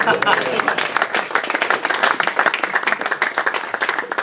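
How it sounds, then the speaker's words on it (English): Crowd at the Great British Hobbit League final awards applauding as a prize is handed out, dense continuous clapping at a strong, steady level with voices faintly mixed underneath. "The clapping got a little bit quieter then when that one went out."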